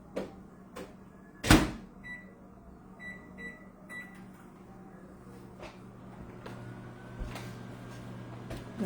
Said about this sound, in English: I'm going to do one more minute in the microwave and just see.